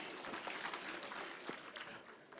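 Scattered clapping from a crowd at an outdoor funeral gathering in Kianyaga, Gichugu, Kenya, faint and brief, fading quickly.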